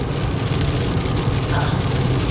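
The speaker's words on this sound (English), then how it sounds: "It's raining, guys." Rain falls outdoors as a steady, dense hiss that holds at an even level throughout, mixed with a low rumble like passing road traffic.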